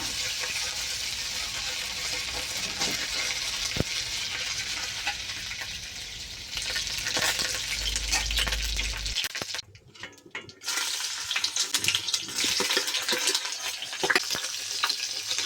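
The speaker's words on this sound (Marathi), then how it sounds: "तेल असं कढईमध्ये तापवून घेतलेलं आहे। तेलात आता टाकूया जिरे, कढीपत्ता" Cumin seeds and curry leaves hit hot oil in a kadhai, crackling and sizzling steadily near the pan, with a short quiet drop partway before the frying hiss resumes.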